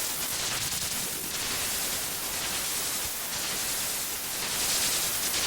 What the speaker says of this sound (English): White noise, percussion.